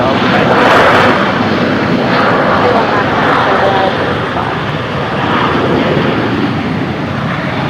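A fixed-wing airliner roars loud and close at Brisbane Airport during a stormy sunset, its broad jet engine rumble holding steady for several seconds and easing slightly partway through.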